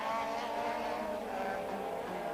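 Formula 1 race cars at the 1984 Portuguese Grand Prix at Estoril make a continuous, high engine whine that holds steady at moderate loudness without a break.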